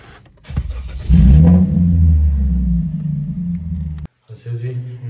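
A car starts on its self-starter with a short crank, catches and roars into a loud, close revving rumble that settles into a steady idle, then cuts off abruptly. A voice follows.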